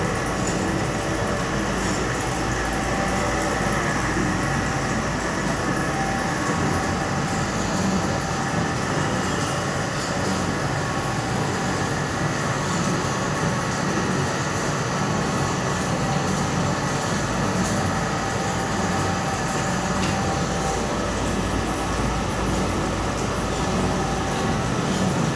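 A peanut oil press crushing groundnut pods into oil and oilcake runs in a loud, continuous mechanical rumble and clatter, droning steadily without pause.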